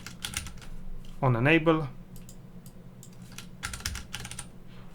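Computer keyboard typing code, close bursts of quick key clicks before and after a stretch of talking, light and crisp.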